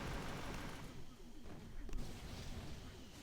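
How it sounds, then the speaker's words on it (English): Artillery barrage in the mobile strategy game Boom Beach, a dense rumbling roar of overlapping booms and crackling blasts running steadily throughout, with one sharper hit near the middle. "let's go ahead and use 1 artillery onto that"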